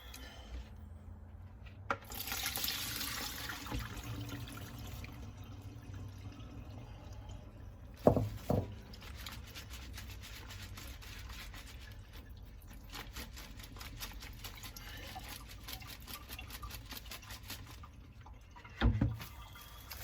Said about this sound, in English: I have no need for the vinegar, so I'm just going to drain it in a sink